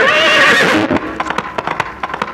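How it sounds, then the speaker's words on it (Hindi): A horse whinnies loudly in a long, wavering call, then rapid hoofbeats clatter in an uneven galloping rhythm, close and clear with no voices, part of a Hindi nautanki folk drama performance. "घोड़ा साला बहुत तेजी में जा रहा है।"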